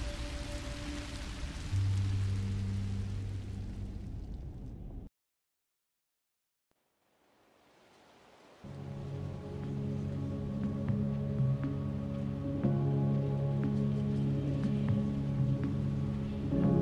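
Steady rain falls in Minecraft Story Mode, a soft broadband hiss over game music, cutting out briefly to silence before resuming with the music continuing underneath.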